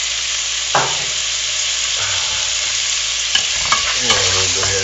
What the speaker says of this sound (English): And we'll go ahead and get it stirred up so that some distribution of heat.